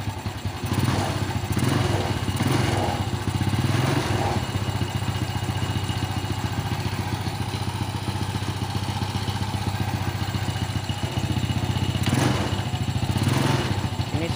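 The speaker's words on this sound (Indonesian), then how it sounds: "Ntar motornya saya hidupkan dulu." A modified three-wheeled motorcycle's engine runs steadily up close, a continuous loud mechanical drone with clatter and a few revs rising over the idle throughout.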